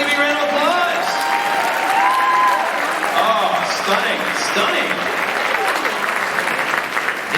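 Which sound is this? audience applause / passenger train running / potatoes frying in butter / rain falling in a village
audience applause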